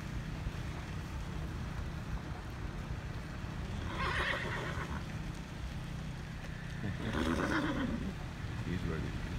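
A horse on a farm lane whinnies twice, fairly distant, over steady wind and low rumble.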